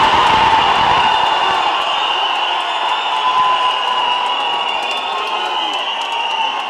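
A large crowd of fans at a film's 100th day celebration cheering and roaring continuously, loud and sustained, with whoops rising through the din.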